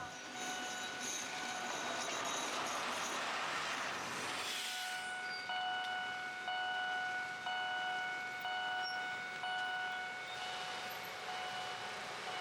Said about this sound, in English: a train is about to thunder past here